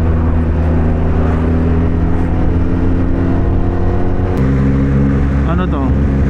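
Yamaha XSR motorcycle set up as an adventure bike, engine droning steadily and loud with a shift in pitch partway through, riding along rough roads near a river in northern Luzon; wind noise runs throughout.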